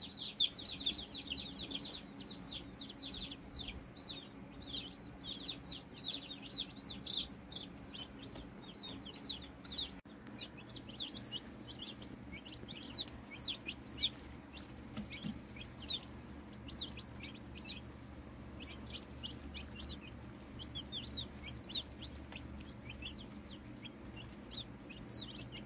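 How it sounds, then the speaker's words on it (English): Young meat chicken chicks on a small homestead peep and chirp in a steady stream of quick, high calls over a low ambient hum, faint and continuous with no talk. "if there's anybody that knows what this black chick is right here"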